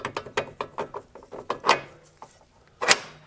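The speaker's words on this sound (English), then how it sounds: "Fit our bolt back in." A ratchet clicks in quick rhythmic bursts, close up, while a bolt is fitted and tightened on a Porsche 996/986 control arm, with a couple of louder metallic knocks near the end.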